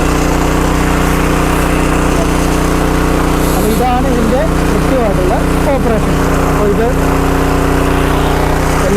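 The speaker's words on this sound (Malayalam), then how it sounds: "ഇതാണ് ഈ ഒരു ഒരു മിക്സറിൻ്റെ ഒരു ഗുണം വരുന്നത് ഇത് കണ്ടത് നന്നായിട്ട് ഇളകുന്നുണ്ട് മിക്സ് ആവുന്നുണ്ട്" A steady motor hum from a mixer foot valve pump churning lime and fertilizer in water, droning continuously at an even level while someone talks over it.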